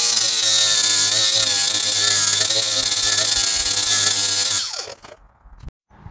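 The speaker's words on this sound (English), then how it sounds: "Let's begin sharpening." A lawn mower blade is being sharpened with a loud, steady power-tool whine that holds for over four seconds, then spins down and falls quiet.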